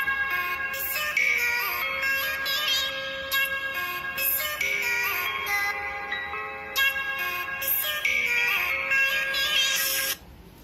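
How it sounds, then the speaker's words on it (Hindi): Bright instrumental music with chiming, bell-like tones plays steadily from a Motorola One Power phone speaker for about ten seconds, then cuts off abruptly. "यहाँ पर एक नो कॉपीराइट स्ट्राइक वाला एक म्यूजिक आपको सुना देती हूँ"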